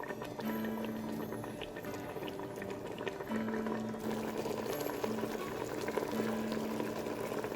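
Steady bubbling of water boiling hard in a pressure cooker with chicken over high flame, a continuous simmering hiss with occasional low hum, close by and fairly loud throughout.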